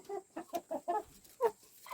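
Chickens scratching in ash cluck close by in a quick run of about six clucks, then a short pause and one more loud cluck.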